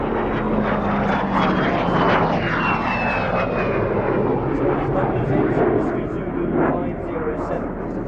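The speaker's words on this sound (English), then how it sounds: "Whistling because of the sound the engine makes, and wheelbarrow because of those twin wheels." A loud de Havilland Vampire jet roars past at an air show with a high, falling whistling whine over a broad rushing rumble, steady and close throughout.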